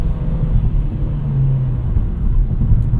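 A 2025 Nissan Versa, an inexpensive subcompact car, accelerates on a cold day, its engine producing a steady low rumble with a rising tone, heard from inside the cabin.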